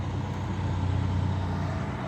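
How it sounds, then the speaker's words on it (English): A truck rolls by on a nearby road outside, a steady broadband rumble of engine and tyre noise holding loud and even for the whole two seconds, with no voices over it. "We got a truck coming in."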